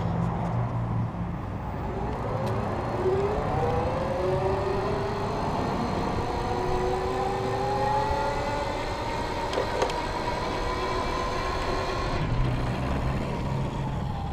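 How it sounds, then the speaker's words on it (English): A 250-watt electric bike hub motor whines and rises steadily in pitch under throttle, heard alone over steady road and wind noise. "I'm just gonna hit the throttle here."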